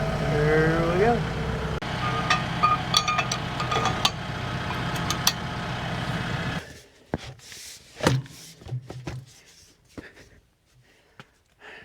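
A tractor engine hitched to a Baumalight 3P34 three-point stump grinder runs at a low steady rumble for several seconds, then cuts out, leaving quieter clanks and handling noises; a person talks over parts of it.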